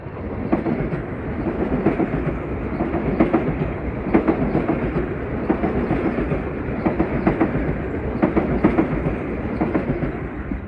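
Metro-North commuter train on the Harlem Line rolling past close and loud, a steady roar of wheels with rhythmic clickety-clack over rail joints throughout; no voices.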